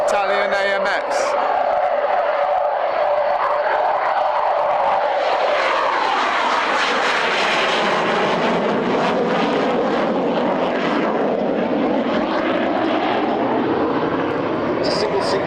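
An Italian AMX single-engine subsonic strike jet roars past at an RAF Fairford air show, its loud engine building to a sweeping, pitch-shifting peak and fading, with a crowd and a commentator's voice beneath.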